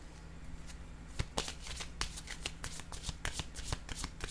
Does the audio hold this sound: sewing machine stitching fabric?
no